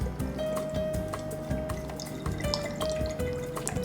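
Rice wine vinegar pours from a bottle into a measuring cup while making banana leaf pork tacos (cochinita pibil); a thin, close liquid trickle and drip with a few small clinks, no talking.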